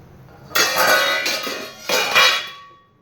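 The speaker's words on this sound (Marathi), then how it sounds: "झाकण पडलं" A metal pot lid clatters loudly onto a hard surface, ringing and rattling in two bursts before fading out.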